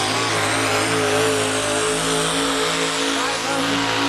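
A fuel-injected, alcohol-burning pulling truck with a brand-new roughly 550-cubic-inch engine roars at very high RPM during a truck and tractor pull, a loud, sustained, steady engine drone with faint voices underneath.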